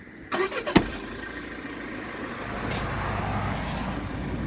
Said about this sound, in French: Nous allons procéder à la mise en route du moteur du véhicule tracteur.